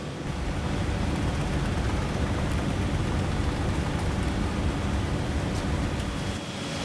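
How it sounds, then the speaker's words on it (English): Water circulating through a hydroponic vegetable growing system, a steady, continuous rushing and trickling wash that holds constant from start to finish with no talk over it. "So the water noise you hear behind me is because we're growing using hydroponic technology."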